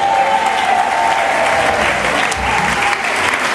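A church congregation applauding at a worship service: dense, steady clapping from a large crowd that fills the room without a break, with a faint voice beneath it.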